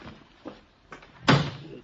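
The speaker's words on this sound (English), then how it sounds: "Shut that car door" Car door slammed shut as a radio sound effect: two soft knocks lead into one sharp, loud slam in a quiet, muffled setting.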